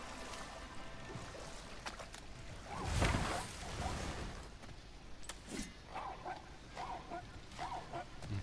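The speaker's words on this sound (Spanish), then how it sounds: "Ese es un perro, ¿no?" A dog barks in God of War Ragnarök, a few yips and barks under a low game ambience while a Spanish-speaking voice talks over it.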